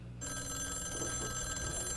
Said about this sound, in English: And there's that phone ringing.